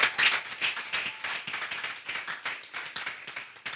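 Congregation in a church service clapping together in a steady rhythmic beat, dense and close, the many hand claps blending into continuous applause-like rhythm with no talk.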